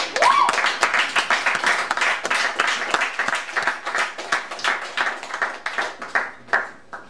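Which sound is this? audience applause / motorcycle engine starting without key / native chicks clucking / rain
audience applause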